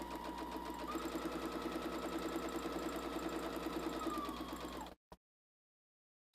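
Sewing machine stitching a quarter-inch seam through two pieces of fabric placed right sides together, guided by a quarter-inch presser foot; a steady, close mechanical whir runs for about four seconds, then cuts off.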